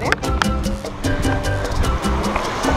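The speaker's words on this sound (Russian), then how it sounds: "Вот так выглядит у нас море." Sea waves wash continuously onto the beach of Koh Phangan island, a loud steady surf roar with a low rumble and faint background sounds.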